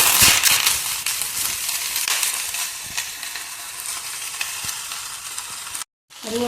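Curry leaves hit hot oil in a pan with sesame seeds and give a loud, crackling sizzle with sharp pops. The sizzle starts strong, eases gradually, cuts out briefly, then returns.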